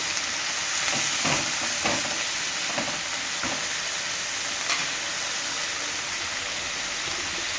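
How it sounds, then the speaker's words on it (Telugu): Moong dal fries in hot oil while being cooked for a Telugu curry of dal, amaranth greens, raw mango and tomato: a loud, steady sizzle throughout, broken by a few soft stirring scrapes, close and with no voices. "కొంచెం ఇట్లా నూనెలో మగ్గినాక పెసరపప్పు వేసుకుంటూ ఉడుకుతాం"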